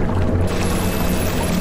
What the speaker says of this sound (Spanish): Ahora puedo tirar de la palanca. La fuente se llena ahora.